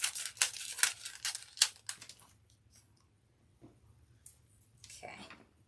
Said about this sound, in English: If you have a bag, you can just cut it open.